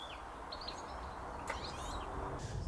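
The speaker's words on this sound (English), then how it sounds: "You can probably hear lots of goldfinches singing away." Several goldfinches sing high in the treetops at a nature reserve, a scatter of faint chirps and twittering phrases over steady outdoor background noise.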